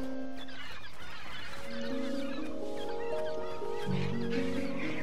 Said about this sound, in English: there's a lot of birds here